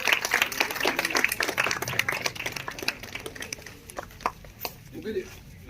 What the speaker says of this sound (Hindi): खूब खूब तालियां, जोर से स्वागत।